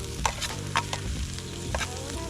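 Onion fries in a pan over a low campfire flame while camping in cold weather, with a steady close sizzle broken by a few sharp stirring taps.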